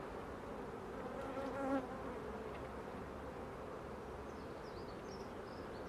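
A strong honeybee colony buzzes steadily during a hive inspection, a close, dense hum that holds without a break throughout.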